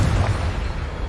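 A Confringo blasting-curse explosion in the video game Hogwarts Legacy: a loud, deep, rumbling boom that fills the whole second and fades slightly toward the end, with no talk over it.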